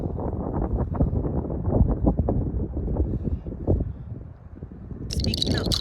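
Low rumbling wind buffets the microphone throughout on a cold walk by a river in Oregon, with a hiss rising near the end. There is no clear talking.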